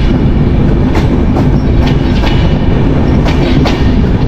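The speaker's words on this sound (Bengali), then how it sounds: "তার মধ্যে আমাদের ট্রেনটি শেতাবগঞ্জ রেল স্টেশন পার হচ্ছে।" The Drutojan Express, a fast night train running from Dhaka to Panchagarh, rolls loudly on the rails with a constant heavy rumble and a rhythmic clickety-clack of wheels over rail joints as it passes a station.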